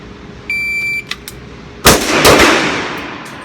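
Sig Sauer Nightmare .357 pistol firing: after a short electronic beep, a sharp close gunshot cracks out, followed moments later by a second report with a lingering echoing tail.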